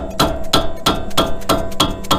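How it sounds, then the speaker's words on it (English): A dead blow mallet striking a wrench to break a crusted nut loose while replacing the front wheel bearings on a Toyota FJ Cruiser, heard as seven sharp, close, evenly spaced blows in a quick rhythm. "use my dead blow mallet to just"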